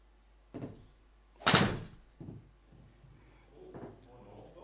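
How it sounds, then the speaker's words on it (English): A door opens with a few dull knocks and one louder bump and rattle, fairly close, in a live golf match setting, with quiet voices around it. "Now the door opens again"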